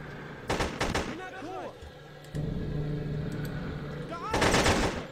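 Bursts of automatic gunfire from the video game Hitman 2, with a short volley near the start and a louder one at the end, separated by rumbling ambience and a voice speaking.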